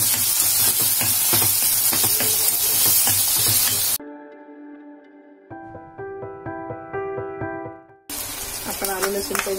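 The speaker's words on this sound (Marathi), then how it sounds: "आता आपण याच्यामध्ये टोमॅटो टाकूया" Tomatoes sizzle and crackle in hot oil with softened onions, sautéed for a spicy prawn curry. The loud frying is heard with stirring, breaks for a stretch of music, then returns.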